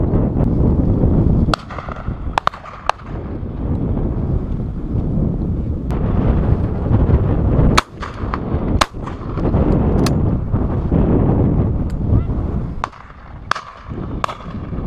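Shotguns fire at a pheasant and duck shoot in 2014, several sharp reports scattered across the stretch against steady, loud wind buffeting the microphone.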